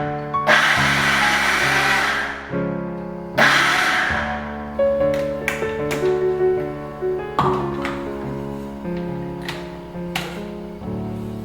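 A mixer grinder coarsely crushes grated coconut, garlic and green chili for a jackfruit dish. It runs in a few loud, close whirring bursts, then several shorter pulses, with no talking.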